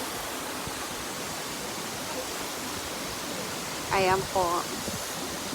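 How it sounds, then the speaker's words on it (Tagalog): Waterfall at Yoro Taiki in Gifu, a steady broadband roar of falling water filling the whole clip, with a brief voice speaking over it near the end. "Napakaganda ng falls."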